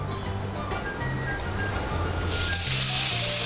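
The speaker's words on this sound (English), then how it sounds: "And that's the noise we want to hear," Food hits a hot pan during a cooking show, and a steady sizzling hiss rises and grows louder toward the end, with low voices murmuring underneath.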